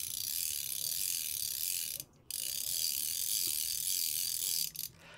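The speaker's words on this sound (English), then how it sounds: "I think the reel sounds pretty good." The drag of a Lamson Litespeed M fly reel clicks in a fast, steady, even ratchet buzz at close range, stopping briefly once and then running on before fading out.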